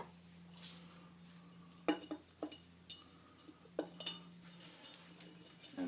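Small metal cutters snip the ends of bonsai tie-down wire, giving a handful of sharp, close clicks spaced irregularly over a faint steady hum, with no talking.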